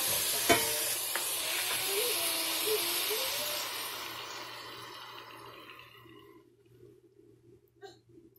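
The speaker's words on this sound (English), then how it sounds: "I'm going to add my egg now" An egg frying in a pot for a spinach omelet, starting with a sharp hiss when it hits the hot surface, then a crackling sizzle that fades gradually to near silence, with a couple of faint clicks at the end.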